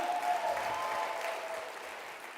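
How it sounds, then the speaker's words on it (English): Broad, steady applause from a conference audience at an opening plenary session, a dense wash of many hands clapping that fades slightly toward the end, with no talk over it. "Please, huge round of applause for Lina"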